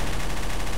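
Gunfire in Garry's Mod's Trouble in Terrorist Town mode, a dense, loud burst of rapid shots packed into under a second.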